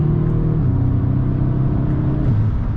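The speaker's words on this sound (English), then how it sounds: "I don't know if you can hear the intake and the blow off, but it is much louder." An Audi S3 engine with a Stage 1 tune drones steadily with a low rumble and an airy whoosh of intake and blow-off valve, loud and close, with no voices.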